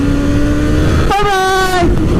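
A cruiser motorcycle drops a gear and accelerates, its engine note jumping sharply in pitch and climbing in a loud, close rev for under a second before easing back to a steady drone.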